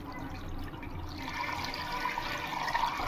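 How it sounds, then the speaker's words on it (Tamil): Water pours steadily into a pot of curry meat, filling a cooker in a home kitchen with a continuous, close, splashing rush that runs through the whole moment. "இதில் வந்து சிறிதளவு தண்ணீர் விட்டு வேணும்."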